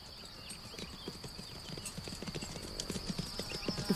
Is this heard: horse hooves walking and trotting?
yes